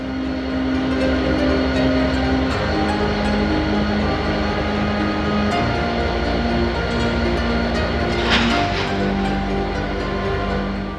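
Milwaukee Road 261, a Northern-class 4-8-4 steam locomotive, rumbles steadily past with long sustained whistle tones and a brief hissing burst of steam, loud and continuous throughout.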